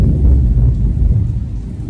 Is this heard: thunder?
yes